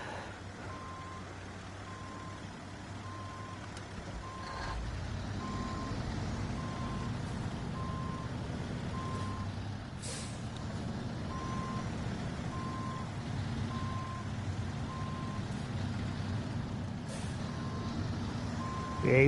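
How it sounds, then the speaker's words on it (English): A big long truck reverses around a corner, its backup alarm beeping steadily at an even pace over a low diesel engine rumble that swells midway, with occasional hisses of air brakes. "he's trying to muscle that big old long truck around the corner here"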